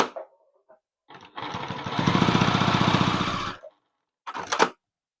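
A sewing machine stitches quilt pieces in one steady rapid run of about two seconds, with brief handling sounds before and after.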